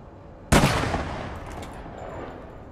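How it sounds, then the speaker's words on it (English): A single loud gunshot bursts out in APB Reloaded, a sharp crack followed by a long, decaying echo that fades over the next couple of seconds, standing alone without any speech. "Someone's fucking shooting."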